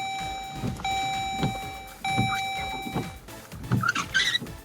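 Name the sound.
car windshield wipers running after ignition on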